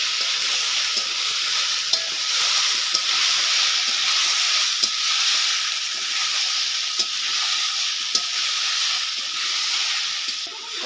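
Cauliflower and spices fry in a pan with a loud, steady sizzle and hiss, a few small pops and spoon scrapes scattered through, and no talking.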